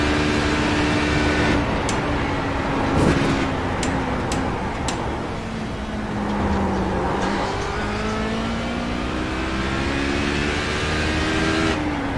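Race car at Le Mans during Thursday night practice, its engine revving and sweeping up and down in pitch as the tires spin, loud and continuous over roughly twelve seconds.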